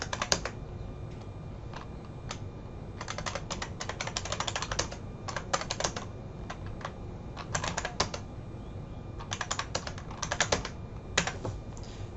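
Rapid typing on a computer keyboard, with bursts of close key clicks in an irregular rhythm that pause and resume, heard alone with no voices.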